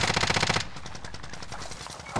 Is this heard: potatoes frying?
no